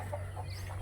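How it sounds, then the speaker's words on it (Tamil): Hens clucking on a small Pondicherry farm where birds are kept for eggs, a few soft repeated clucks close by against a steady low hum, with no talking. "பாருங்கள், எல்லாமே தாய்க்கோழி தாங்க."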